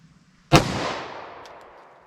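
A single loud, close shot from a 5-inch barrel M&P pistol chambered in .357 SIG, a sharp crack followed by a long echoing decay after a moment of quiet.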